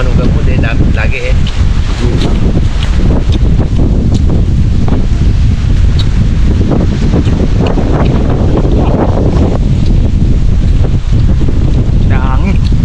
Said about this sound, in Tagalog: Malakas guys ang hangin.